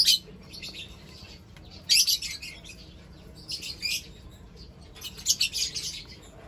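Lovebird chicks, pale-feathered creamino young from albino parents, give short bursts of high chirping in a few clusters, with quieter gaps between them and no talk.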